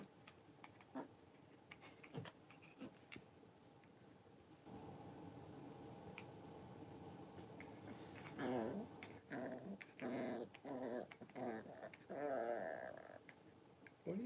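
A small dachshund-chihuahua mix dog growls low and close in a quiet room, a steady rumble that swells and breaks into rougher bursts in the second half.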